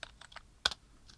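A keyboard shortcut tapped on a computer keyboard during a design tutorial: a few soft, close keystrokes with one sharper click cluster in the middle, quiet and without speech.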